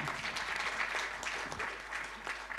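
Steady applause from a crowd fills the whole stretch, a dense continuous patter with no pauses.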